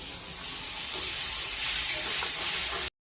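Spice paste sizzles steadily in a pan for a Goan-style vegetarian fish curry, a loud, dense frying hiss that runs unbroken until it cuts off abruptly near the end.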